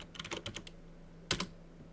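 Keys on a computer keyboard clatter in a quick burst of about eight taps as a password is entered, then after a pause a final pair of firmer strokes, close and clear in a quiet room.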